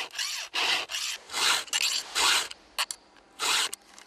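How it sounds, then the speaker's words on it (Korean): A worker hand-filing a dulled chainsaw chain during tree felling, rhythmic rasping strokes of metal file on chain teeth, about eight scraping pulls with short pauses between, close and clear. "톱을 갈고 있는 작업자."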